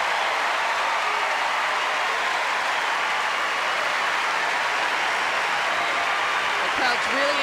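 A tennis crowd at the 1998 Lipton Championship final, Venus Williams against Anna Kournikova, applauds steadily in a dense, even wash of clapping that holds loud for the whole stretch with no break.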